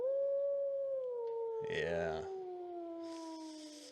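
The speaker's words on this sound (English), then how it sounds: "You heard a wolf howl." A wolf-howl sound effect played during a Curse of Strahd tabletop role-playing session: a long, steady, slowly falling howl that fills the whole stretch, with a brief spoken word cutting across the middle.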